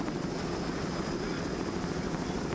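Helicopter overhead during an afternoon offshore powerboat race, a faint steady rotor and engine drone at a distance.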